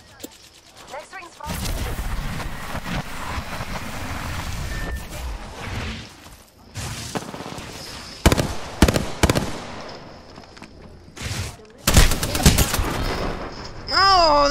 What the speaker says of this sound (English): Oh, they're all shooting at me.